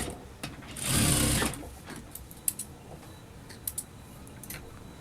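A sewing machine briefly whirs while stitching blouse lining, a short close burst followed by light clicks and handling sounds in a quiet room.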